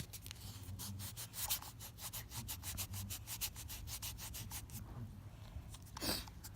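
Hands rubbing the shell of a Hatchimals toy egg, a quiet, dry, rapid scratching and rustling close up in fast repeated strokes, with a short louder rub near the end.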